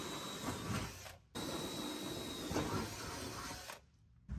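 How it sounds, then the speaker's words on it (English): A power drill grinds steadily through a metal flange and bracket while installing a pontoon boat ladder, running in two long bursts separated by a brief pause, close and fairly loud. "Drilling through the flange and the bracket or your cross member."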